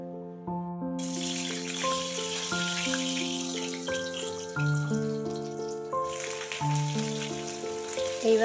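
Tap water runs in a steady splashing stream as a kadai is washed, the rush lasting several seconds before stopping, beneath continuous background music.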